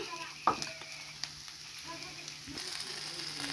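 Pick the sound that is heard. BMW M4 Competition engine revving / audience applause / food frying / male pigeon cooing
food frying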